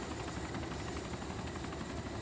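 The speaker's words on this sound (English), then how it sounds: "This helicopter is a little bit nose heavy, really nose heavy" Helicopter flying in the video game DayZ, a nose-heavy aircraft, heard as a loud continuous rotor roar with a fast beating chop filling the whole clip, no voices.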